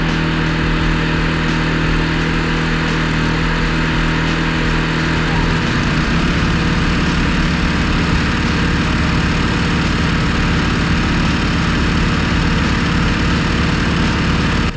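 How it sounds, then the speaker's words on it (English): A Wen Super Quiet 2350W portable generator runs close by with a loud, constant engine drone and a steady low hum. Its pitch settles slightly a few seconds in, and no one speaks. "Out of curiosity, I started up the generator next to my Yamaha here"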